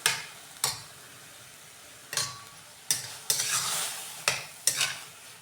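A spoon stirs a vegetable dish with peanut powder and dal in a pan, giving about eight sharp scraping strokes at an uneven pace over a light sizzle, close and clear with no talk.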